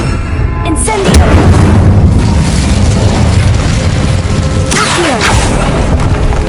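Incendio fire spell in a Harry Potter video game bursts into a loud, sustained fiery boom with crackling roar, swelling again near the end as the flames flare up.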